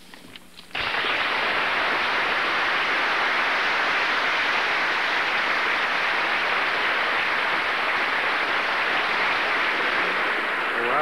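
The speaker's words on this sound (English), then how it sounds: "Rousing speech, as you can hear from the applause." An audience in the Oxford Union debating chamber breaks into applause after a speech, starting abruptly and continuing as a dense, even roar of clapping for about ten seconds.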